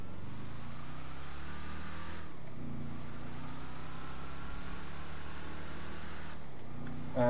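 A car engine in GTA 5 drones steadily at high revs, dropping briefly twice as the car shifts up through its gears, then climbing again; a constant, close, mid-loud motor sound with no voices.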